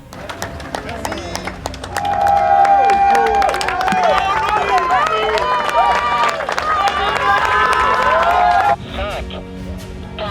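A large crowd at Les Sables d'Olonne harbour cheers and claps as solo sailors set off, a loud continuous roar of voices and whistles rising after a quieter start, then dropping sharply near the end.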